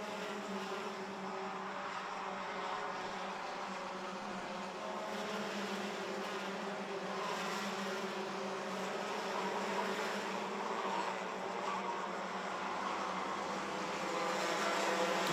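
Mini-class racing karts circle the Campillos track during the Wintercup prefinal, a continuous buzzing engine drone that stays fairly distant and steady, rising slightly toward the end.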